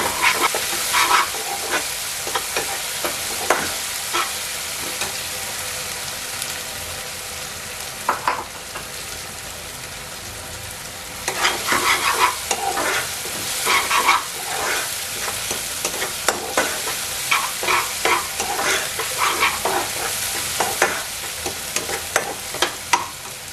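Ginger paste frying for mutton ghee roast, a loud continuous sizzle close by with repeated scraping stirs that thin out briefly in the middle before resuming in a busy run of strokes.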